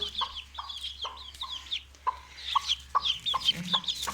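Hens cluck in short repeated bursts at close range, a steady series of calls with no talk over them.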